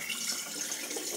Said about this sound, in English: Pop you here while I fill up with water.